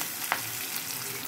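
Okra and onion frying in a pan gives a steady, close sizzle with one short stir or scrape, no talking.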